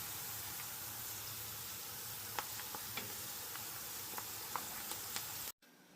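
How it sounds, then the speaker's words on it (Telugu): Onions fry in oil for Hyderabadi haleem, producing a steady, soft sizzle with scattered crackles and pops, then cutting off abruptly near the end. "ఆనియన్స్ యా ఫ్రై అవుతున్నాయి"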